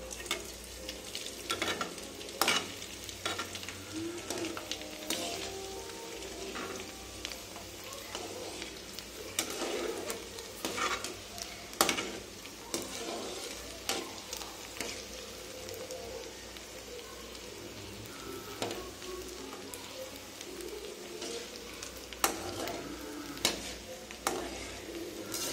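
Homemade vadagam, sun-dried for three days, frying in hot oil as a dense, continuous sizzle close by, broken by sharp scraping and clattering stirs at irregular intervals, with no talking.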